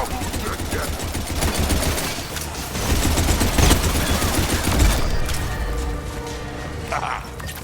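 Mechs explode under heavy gunfire in a video game battle, a dense, loud stream of rapid shots and booms with bursts swelling midway.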